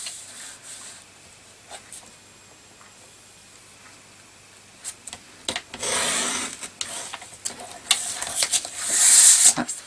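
Paper trimmer cutting scrapbook paper, starting with faint scattered ticks and scrapes, then several louder rasping slides of the blade across the sheet, the last one strongest, close and with no talk over it.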